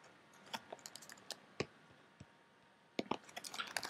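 Scattered keystrokes on a computer keyboard while code is being written, a few quiet isolated clicks and a short burst near the end, close by and fairly faint.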